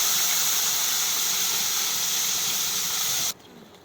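Gaade fish frying in hot oil as tomato puree goes in, a loud, steady broadband sizzle and hiss that holds evenly, then cuts off abruptly near the end, leaving only faint noise.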